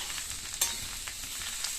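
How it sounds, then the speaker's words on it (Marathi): Steady crackling sizzle of vegetables tempering in hot oil, continuous and close, with a few sharper pops. "ती तेलात अशी फोडणी दिल्यानंतर"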